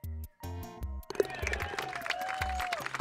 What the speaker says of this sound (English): Oh, they're cheering for me.